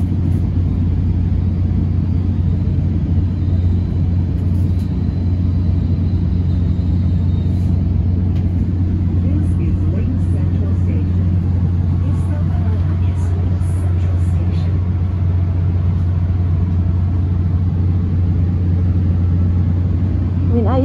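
Steady low traffic rumble and idling bus engines at Lynx Central bus station in Orlando, a constant droning hum near and loud, with faint voices and scattered clatter over it.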